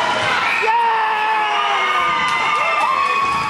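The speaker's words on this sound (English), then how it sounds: "The championship was our loudest of the day, as many parents were screaming in support at the top of their lungs." Parents scream and cheer at a hockey championship, a dense, steady crowd roar of high shrieks and whoops carrying throughout.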